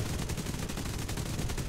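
Rapid machine-gun fire from an aircraft in War Thunder, a dense, even burst of shots repeating quickly and steadily for nearly two seconds.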